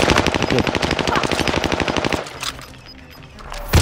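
Rapid automatic machine gun fire in Call of Duty Warzone, a loud steady burst of closely spaced shots lasting about two seconds, then quieter game ambience and a sudden loud hit at the end.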